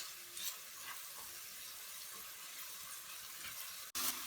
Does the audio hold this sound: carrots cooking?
yes